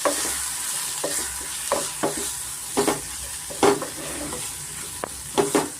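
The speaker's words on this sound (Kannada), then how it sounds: "ಇದನ್ನು ಅಷ್ಟೇ ಸ್ವಲ್ಪ ನಾವು ಚೆನ್ನಾಗಿ ಮಸಾಲೆನ ಹುರ್ಕೊಬೇಕಾಗುತ್ತೆ" Masala spices — chilli, coriander and cumin powder with garam masala — frying and being stirred in a pan for a hotel-style avarekalu bath, with a steady soft sizzle and repeated scraping stirs, close and alone.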